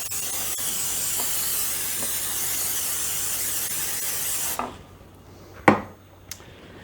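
Cooking spray hisses into a casserole dish in one long, steady, close burst lasting several seconds, then stops, followed by a couple of light clinks of the dish.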